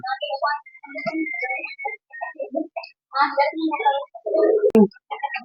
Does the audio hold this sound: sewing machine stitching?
no